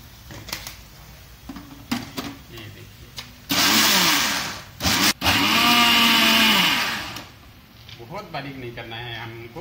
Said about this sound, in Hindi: इसको पीस देंगे मिक्सर में